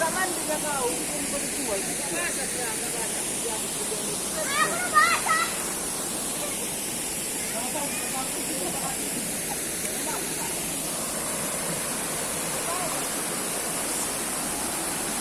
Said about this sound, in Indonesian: Konon air terjun ini berada di 7 tingkat